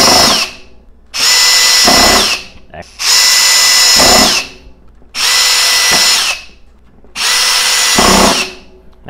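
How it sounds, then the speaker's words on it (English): Metabo HPT DV36DA 36-volt cordless hammer drill sinking screws, four loud, close bursts of whining motor separated by short pauses. "DV36DA, the 36-volt hammer drill"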